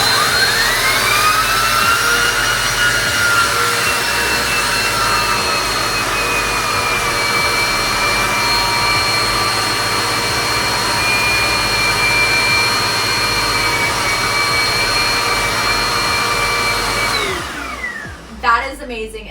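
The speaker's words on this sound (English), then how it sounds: "we are going to attach the turbo attachment right here. Boom. And just like that, turn on this right here." A Eureka PowerSpeed upright vacuum cleaner with its turbo attachment runs loudly and steadily, a continuous whining motor drone with a rising pitch at start, then cuts off near the end with a few clunks.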